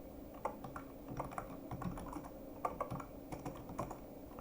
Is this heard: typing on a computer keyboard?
yes